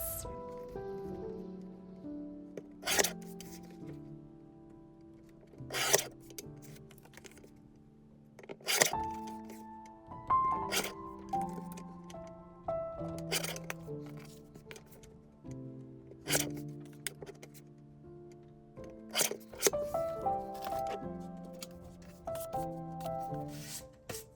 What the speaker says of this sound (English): So I just use my guillotine trimmer to do this